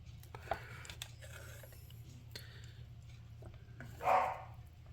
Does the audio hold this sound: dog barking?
yes